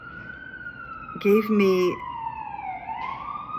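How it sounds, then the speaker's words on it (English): A wailing emergency siren sweeps steadily up and down in the distance, running under a woman's speech throughout. "listen to that siren"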